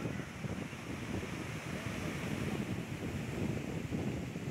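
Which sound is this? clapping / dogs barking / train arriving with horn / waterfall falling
waterfall falling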